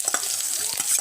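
Onion and green chili hit hot oil with cumin seeds, sizzling loudly up close while a spoon stirs and scrapes the pan in quick strokes.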